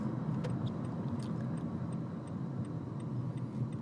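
Steady low engine and road hum inside a moving 2014 Nissan Altima 2.5S with its 2.5-litre four-cylinder and CVT, quiet and even, with a regular ticking running through it.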